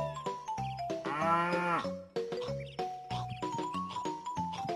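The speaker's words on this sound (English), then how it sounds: "I hear him mooing now" A cow moos once in the video game Banjo-Kazooie, a long loud low call, amid choppy game music and rhythmic background sounds.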